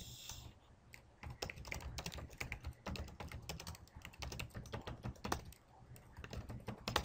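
Fast, irregular typing on a computer keyboard, with a steady patter of close, crisp key clicks and occasional louder taps, heard alone without voices.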